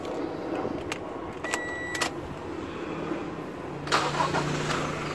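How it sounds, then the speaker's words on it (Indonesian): A key turns and clicks a few times, then a Toyota Kijang Innova 2.4 diesel engine cranks and catches into a low, steady idle rumble close by. "nah kedengaran ya ciri khasnya solar dari Toyota mirip seperti Fortuner juga"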